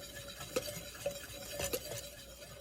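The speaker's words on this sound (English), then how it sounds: "Now mix the dry ingredients together until combined" Flour, baking soda and salt being whisked together in a bowl for a chocolate berry yogurt mousse cake, a quiet, steady scrape punctuated by a few light, evenly spaced clinks of the whisk against the bowl.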